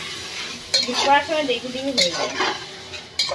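Fried Gobindobhog rice being mixed in a pan, heard as a few close scraping and clinking strokes of a utensil against metal, with a faint sizzle underneath.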